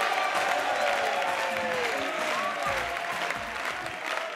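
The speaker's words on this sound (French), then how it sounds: "Beaucoup d'applaudissements pour Juste Parfait." Audience applause for a comedian on stage, a dense, sustained wash of clapping from a large crowd, steady and loud throughout with faint cheers.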